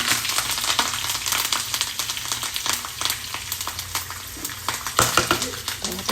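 Two sprigs of curry leaves crackle and spit loudly in hot oil, a close, busy sizzle full of rapid pops, with a stronger burst of spattering near the end.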